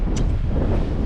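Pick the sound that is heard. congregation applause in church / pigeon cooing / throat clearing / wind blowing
wind blowing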